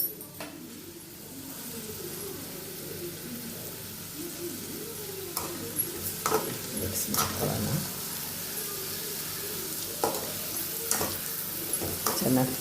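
Grated carrot halwa with added sugar is stirred in a pan, giving continuous soft scraping and gentle sizzling with sporadic louder spoon knocks; a voice speaks quietly underneath at times.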